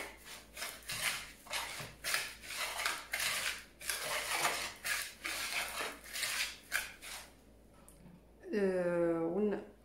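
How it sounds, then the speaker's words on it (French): Shredded coconut and sugar being stirred together in a bowl, with repeated soft scraping and rubbing strokes in a steady rhythm close by, and a voice speaking briefly at the end. "on met la noix de coco avec le sucre, on mélange bien."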